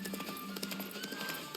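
Horse hooves clip-clopping at a steady gallop-like rhythm in The Witcher 3: Wild Hunt, faint and continuous under a dense game soundscape with no talk.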